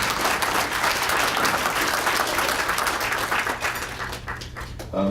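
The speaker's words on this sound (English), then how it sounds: "Give yourselves a round of applause." Award-ceremony audience claps for themselves in a long, dense round of applause that holds steady and tapers slightly near the end.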